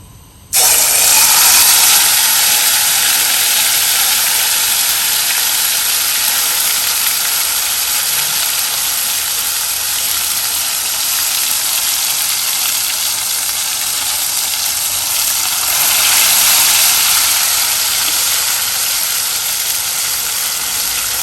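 Ground chili paste dropped into plenty of hot oil in a kadai sets off a sudden loud, dense sizzle that holds steady and close throughout.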